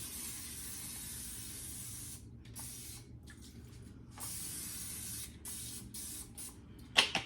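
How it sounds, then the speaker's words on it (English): Cooking oil is sprayed onto a 9x13 cake pan in bursts of close hiss, several short pauses breaking the spray, with a small clatter at the end. "you're going to take a 9x13 cake pan and just lightly oil it"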